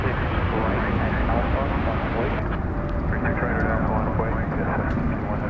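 A jet airliner roars at DFW Airport at night, a steady, loud broadband rumble of engines holding constant throughout with no pauses.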